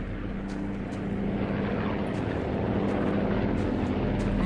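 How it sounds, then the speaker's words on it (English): An aircraft flies overhead in the Call of Duty Blackout battle royale game, a steady propeller-engine drone that slowly grows louder over several seconds, heard alone without talk. "Plane's going right overhead."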